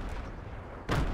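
A grenade explosion in the Fortnite video game: one loud, sudden blast near the end, following a dull rumble of distant combat.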